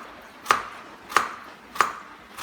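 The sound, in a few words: knife cutting a long vegetable in half for salad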